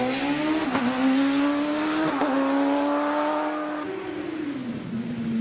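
Racing car on the championship hill climb at Prescott, its engine revving up loudly through several gear changes, rising in pitch and easing off, passing close by.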